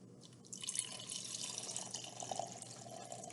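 Water poured from a bowl into a small fish tank, a steady splashing trickle with light dripping that rises after a brief quiet start and continues softly to the end.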